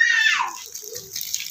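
Water gushing from a DC submersible solar pump: a loud, steady rushing splash that softens after a moment, with faint voices in the background.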